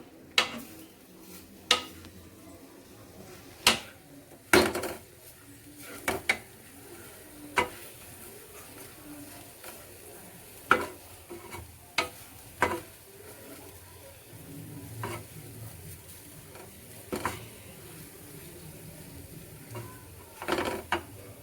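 A spoon scrapes and taps against a pan while dry nuts are stirred with melting jaggery for sweet laddu, giving sharp irregular clinks every second or so over a low background hiss.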